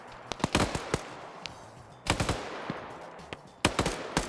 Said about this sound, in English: We got some GLs firing off.